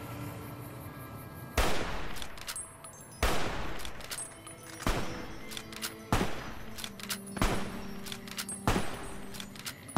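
In the Fallout New Vegas video game, loud gunshots ring out about every one to two seconds, each a sharp close crack, with smaller clatters and metallic clicks between them.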